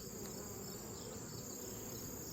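A faint, continuous buzz of many honey bees humming around a hive, steady and even throughout with a constant high whine.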